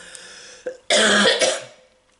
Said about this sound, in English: One more cough.